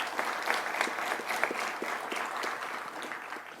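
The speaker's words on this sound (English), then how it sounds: "Let's give them a round of applause before you even know who they are" Audience applauding at a police department promotion ceremony, steady moderate clapping from a mid-sized crowd, heard fairly faintly as if from across the hall.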